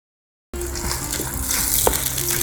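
Cooking oil poured into a pan for a Telangana-style chicken fry, a steady liquid gush and light sizzle that starts suddenly and continues close and fairly loud, with small clinks and bubbling over it.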